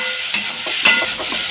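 Potato pieces being stirred in hot oil in a pan, a continuous bright sizzle with two sharp scraping clinks of the spatula against the pan, no voices.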